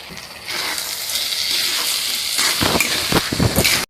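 Rice and lentils frying in ghee in a kadai for bhoger khichuri, a steady close sizzle with hiss that rises after a quiet start, then scraping stirring strokes near the end, no voices.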